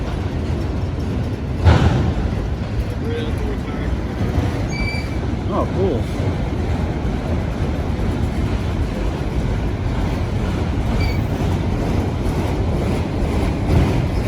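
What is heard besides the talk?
train passing on Indiana & Ohio Railway tracks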